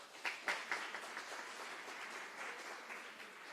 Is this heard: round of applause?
yes